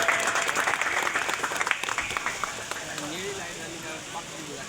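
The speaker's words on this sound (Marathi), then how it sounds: "सर्वांनी जोरदार टाळ्या वाजवायच्या आहेत." Audience at a Satyanarayan puja for a fishing community claps in a loud, dense burst of applause that gradually thins and fades, with a voice speaking faintly over the tail end.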